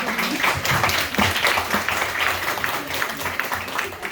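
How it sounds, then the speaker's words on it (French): Steady audience applause after a student pitch presentation, dense clapping at a fairly even level for several seconds, with faint background voices mixed in. "On peut l'applaudir vraiment."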